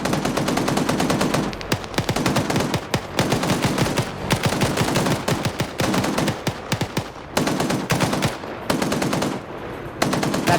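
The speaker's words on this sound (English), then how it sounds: "Dishka's firing over here." A DShK heavy machine gun fires in a video game battle, loud and close, in long rapid bursts broken by brief pauses, the hammering shots nearly continuous throughout.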